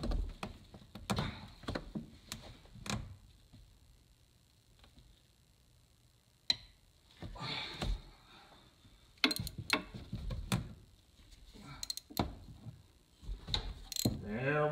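Ratchet with a 12-point socket working a broken spark plug loose, close clicking ratchet bursts and metallic scrapes in short bouts separated by quieter pauses.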